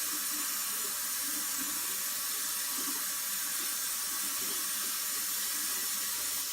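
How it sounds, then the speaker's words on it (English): Tap water rinsing a paint strainer, a steady loud rushing splash running continuously and close, with no talk. "we take and rinse the paint strainer and try to get it all out as much as possible"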